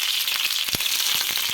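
Tree okra frying in hot oil in a pan, a steady dense sizzle with sharp crackles and pops scattered throughout.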